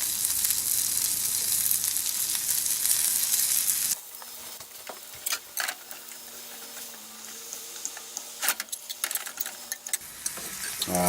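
Fish frying in a pan, with maple syrup or honey used for sweetness: a steady soft sizzle that thins to scattered pops and crackles, quiet and close.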